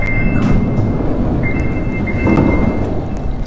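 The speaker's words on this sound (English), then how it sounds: "Oh, there's a metro." Metro train in a video game car park passing with a deep, loud rumble and rolling roar, along with faint high electric whines and a couple of sharp clanks, steady throughout and heard alone.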